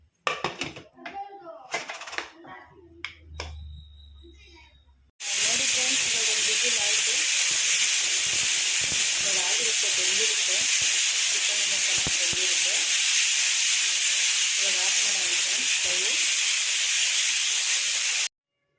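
A pressure cooker holding hotel-style chicken sambar blows its whistle, a loud, close, steady hiss of escaping steam with a high shrill edge. It runs unbroken for about thirteen seconds, right after a few seconds of a person talking.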